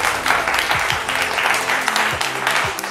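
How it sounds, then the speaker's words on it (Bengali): Studio audience applauding at the opening of a family game show, a dense steady patter of many hands clapping together for about three seconds, with a few low voice-like tones faintly underneath. "শুরু করার আগে একটা হাততালির আওয়াজ চাই সকলের কাছ থেকে"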